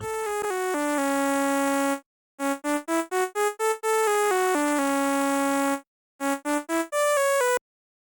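A bright Serum synth lead in the lower octave for a dark hard-rock beat plays a stepping melodic pattern of sustained and short staccato notes, alone, with brief silent gaps between phrases.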